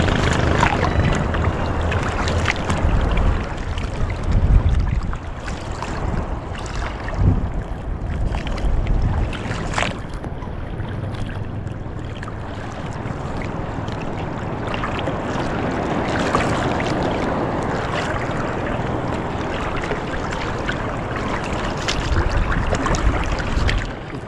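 Small wooden rowboat (bangka) paddled on rough, choppy sea where boat trips are banned, with steady broadband wash of water and wind buffeting the microphone throughout, occasional knocks and splashes of oars, no talk.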